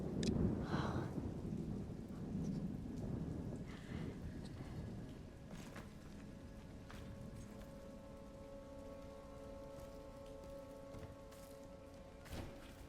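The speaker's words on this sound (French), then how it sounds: "Oh non, il y a de l'orage en plus." Steady rain and rumbling thunder from a thunderstorm in the horror game Resident Evil Requiem, with a heavy crash early on and later softer rolls over a continuous downpour, plus a sustained tonal drone underneath.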